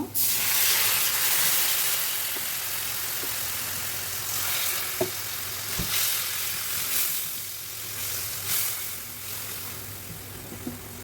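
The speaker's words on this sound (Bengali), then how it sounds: "মশলাটাকে এখন ভালো করে কষিয়ে নিতে হবে।" Onion, garlic paste and ground spices (turmeric, chili, coriander, cumin, salt) sizzle steadily in a pan with a splash of water, a loud continuous hiss with scattered small pops and stirring clicks.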